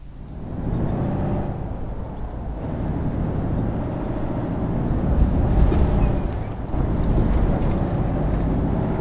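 A modded truck in Euro Truck Simulator 2 rolls over bumps, its steady low engine drone and road rumble swelling and dipping with a couple of louder jolts, continuous and close throughout.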